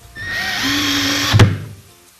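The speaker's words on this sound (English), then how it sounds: "When you're doing this, you're going to need to drill some pilot holes." Power drill driving screws into a wooden coffee table during a DIY build: a steady motor whir that rises in pitch, then a brief knock as the screw seats, with the whine winding down afterward.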